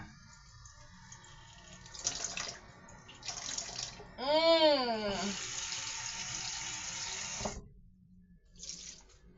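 Tap water running into a kitchen sink while cooking water is changed, an uneven rushing stream with a rising gurgling fill sound in the middle before the flow stops.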